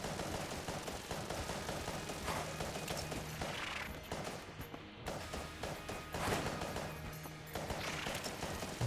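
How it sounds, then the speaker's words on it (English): Continuous automatic fire from the Polaris gun in Enter the Gungeon, a dense steady stream of shots layered over game music and clanking effects, loud throughout with brief dips. "Got our 3rd level Polaris going into this fight. Got the Potion of Gun Friendship, so it's firing basically automatically."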